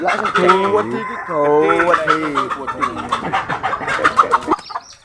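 Chickens cluck and squawk close by, with a rooster-like call among them, while people talk over the birds.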